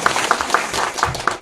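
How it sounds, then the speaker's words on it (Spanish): Audience at a talk on the Ngäbere language applauding: a brief burst of brisk, fairly loud clapping from a modest group, evenly paced, with faint voices behind. "Fuerte el aplauso para los que están aquí interesados."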